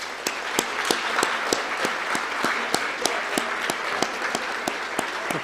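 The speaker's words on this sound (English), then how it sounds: "Students, let's clap for those at your table." Sustained audience applause at an honors banquet, students clapping for the family and friends at their tables; dense, steady clapping fills the room with no speech over it.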